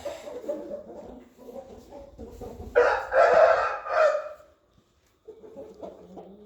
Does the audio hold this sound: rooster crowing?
yes